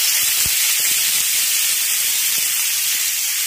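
Soaked chickpeas hitting a hot pan with potatoes, producing a loud, continuous hiss of sizzling oil and steam with a few soft low knocks underneath.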